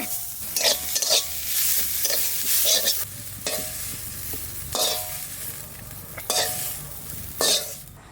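Leafy greens frying in a pan, stirred over and over with a utensil that scrapes and rattles in rhythmic bursts over a steady close sizzle, with no speech.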